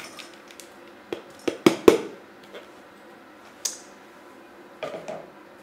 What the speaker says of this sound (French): je mets mes 500 g de framboises dans la casserole.